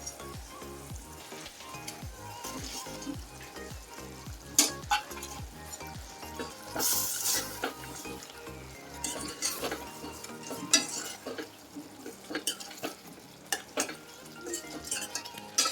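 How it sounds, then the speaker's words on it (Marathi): A pot of curry bubbles and sizzles as fried pakoras are added and a spoon stirs with repeated scraping and clinking against the pan; no speech. "आता याच्यामध्ये ना हे पकोडे आपण केलेत ना तर ते टाकून घेते मी"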